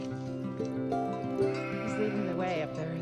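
Goats bleating on a mountain trail near a summit, several wavering cries running together for a few seconds, close and clear with no talking.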